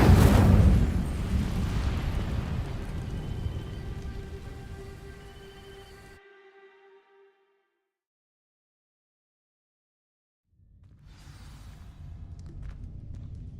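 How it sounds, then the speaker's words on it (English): In Hogwarts Legacy, an Incendio fire spell ignites dry vines: a loud burst with ringing tones opens the sound, then fades over several seconds into silence before quieter noise returns. "These dry vines are one spark away from becoming kindling. Incendio!"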